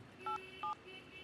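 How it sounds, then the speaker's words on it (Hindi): Two short touch-tone keypad beeps sound in quick succession as a phone is dialed, with a faint low hum behind them and no talking. "चल एमडी को फोन लगा।"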